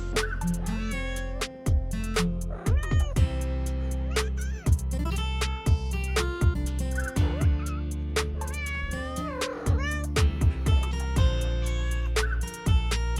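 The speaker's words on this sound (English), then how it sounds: "My cat meows every time she gets pets." A cat meows repeatedly while being petted, the calls frequent and fairly loud over a dense layer of background music.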